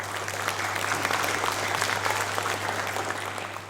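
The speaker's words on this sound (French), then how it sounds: "que je vous demande d'applaudir bien bien fort" Audience applause at a Miss Earth Mauritius Reunion pageant, a dense steady wash of many hands clapping that holds throughout at a fairly loud level, with no talking.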